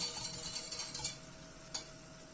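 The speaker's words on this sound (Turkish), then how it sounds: "Bir yandan da şöyle helvamı kavuruyorum." Flour and semolina halva being stirred and roasted in a pan, with a continuous close scraping, light ticking taps of the utensil, and one sharper knock near the end.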